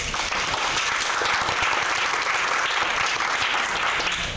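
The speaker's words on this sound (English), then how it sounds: "Let's give them a big round of applause." Dense, steady audience applause at a brewing event as a Sioux City brewery is introduced, a continuous wash of many hands clapping at even loudness for several seconds with no talk over it.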